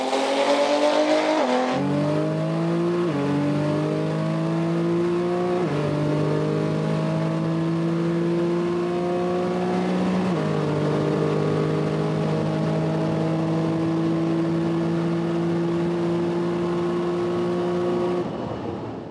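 A car engine of over 1000 horsepower roars as it accelerates hard from idle in a 0-300 km/h run, its pitch climbing through several gear shifts into a long, loud, sustained run.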